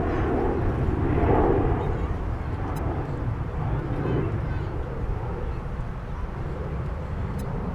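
An Airbus A350-900 airliner at DFW Airport gives a broad rumbling engine roar that swells and eases, with a voice talking over it at times.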